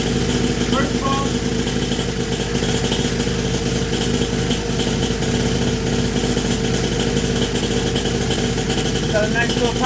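SYX Moto motorcycle engine idling steadily up close with a popping exhaust after the muffler packing was removed, a constant mid-pitched rumble with occasional faint pops, with a voice speaking over it.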